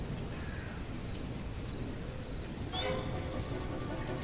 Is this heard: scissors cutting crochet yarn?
no